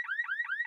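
A car alarm shrieks in short repeating rising electronic sweeps, about three cycles in quick succession, steady and fairly loud with no voices.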